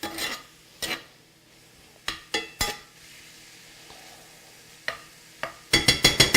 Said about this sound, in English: just kind of just stir that in a little bit with the meat